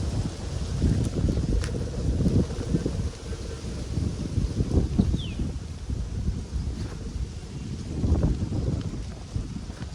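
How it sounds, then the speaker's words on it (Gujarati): Strong wind blowing across rural farmland near jamun trees, a steady rushing noise with gusty swells and rustling, moderately loud and without talk. "એકદમ જોરદાર પવન આવે"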